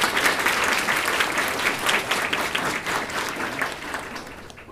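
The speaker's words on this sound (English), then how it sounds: "a round of applause for this great panel before we get started" An audience applauds a panel at a talk on information warfare. Steady, dense clapping from many hands fills the room, loud and sustained, then thins slightly toward the end.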